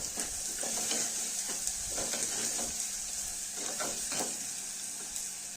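Steady sizzling of green masala paste frying in a pan for village-style handi mutton, with occasional stirring scrapes, no talking.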